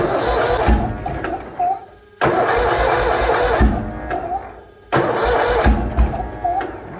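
A Bolens HT-23 garden tractor engine cranks and sputters as it tries to cold start in -40 weather, loud and close, with repeated cranking bursts broken by brief pauses.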